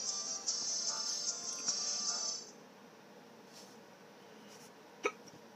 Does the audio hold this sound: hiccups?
yes